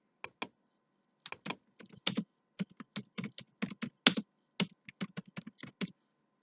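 Computer keyboard typing in short irregular bursts of crisp key clicks separated by brief pauses, close and clear with no talk.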